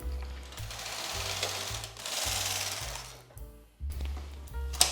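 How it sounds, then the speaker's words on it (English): A knitting machine carriage knits a row, a series of rhythmic mechanical sliding strokes with whirring and clicking, close and fairly loud, with brief pauses between passes. "I knitted 1 row, I need to knit 3 more"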